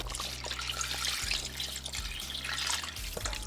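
Coconut milk is poured into a pot of oxtail with carrot and sweet pepper, a steady close liquid pour with soft splashing and gurgles.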